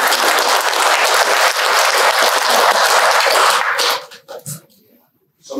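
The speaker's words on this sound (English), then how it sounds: "Can we get a round of applause for Vasudha?" Audience applause at an irrigation and nutrient management clinic: dense, steady clapping from a seated crowd for about four seconds, then quickly tapering into a few scattered claps and near silence.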